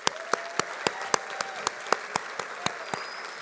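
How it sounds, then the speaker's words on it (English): An engineering commencement audience applauds staff, with one nearby pair of hands clapping sharply in a brisk, even rhythm over a softer bed of crowd clapping. "So one more round of applause for them."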